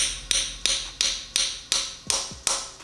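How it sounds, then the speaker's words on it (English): A ratchet with a 9/16 socket spinning down a fastener on an engine, giving seven evenly spaced sharp metallic clicks close by; the last few ring differently as the socket bottoms out, with no talk. "I'm using a 9/16 socket, and you'll hear the pitch change once it bottoms out."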